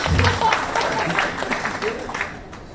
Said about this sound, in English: So, a round of applause to my very beautiful wife, Jasmine Mack.